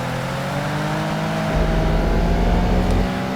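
Porsche 959 race car engine in Project Gotham Racing 2, driven in heavy rain, holds a steady loud drone with whining tonal harmonics and a low rumble that grows heavier partway through.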